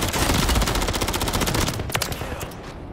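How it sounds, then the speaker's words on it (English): Pistol gunfire in a Resurgence match of a video game: a rapid, loud run of close shots cracks for about two seconds, then a couple of spaced final shots. "I'm fucking him up with a pistol"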